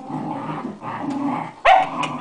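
English setters growling and snarling at each other, a continuous close rumble broken by one sharp loud bark near the end.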